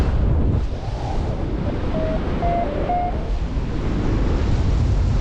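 Strong wind roars and buffets the microphone outdoors above a valley, a steady, dense rushing that fills the whole stretch, with faint thin tones briefly showing through and no voices.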